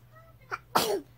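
A single sharp sneeze with a brief inhaled build-up just before it, close and fairly loud, in an otherwise quiet room.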